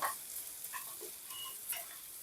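Spices are stirred with a hilsa fish head alongside pumpkin in a pan, soft sizzling with a few light scraping ticks from the spoon, quiet and close.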